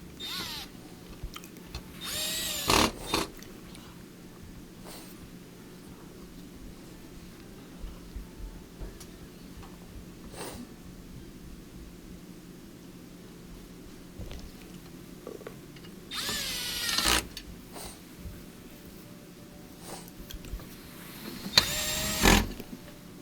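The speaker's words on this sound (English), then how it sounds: "Put those 4 screws that hold the console onto the frame." Screws driven into a console to fasten it to its frame during reassembly, heard as three short, loud bursts of a power driver whirring against a steady low background hum, with no talk.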